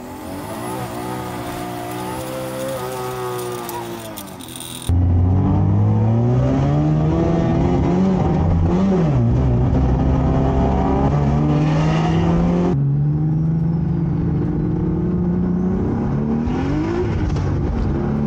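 Tuned BMW E36 M3, Mazda RX7 and 2JZ-swapped Nissan 240SX racing on a road course, engines droning loud and close with rising and falling revs and abrupt shifts between cars.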